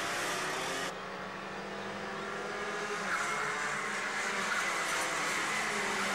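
Racing karts run through a corner, their engines making a continuous buzzing drone that swells and fades as the karts pass, heard at a moderate distance with no talk.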